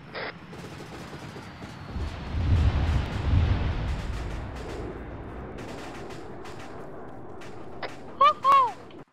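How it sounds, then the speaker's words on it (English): Fifty-caliber rounds cooking off in the Arma 3 video game, a rumbling mass of distant pops and booms that swells and fades, followed by a few sharp cracks and two louder tonal blasts near the end. "Bunch of 50 cal rounds just exploding on cook-off"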